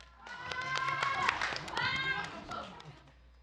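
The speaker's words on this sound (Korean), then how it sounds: "마지막 경연팀 충남고등학교를 박수로 맞아주시면 고맙겠습니다" A high school audience applauds as a mock civil trial team is welcomed in competition: scattered claps build and fade over a few seconds beneath loud talking.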